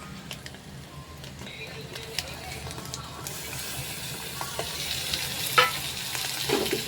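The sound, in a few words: spice paste added and stirred in frying keema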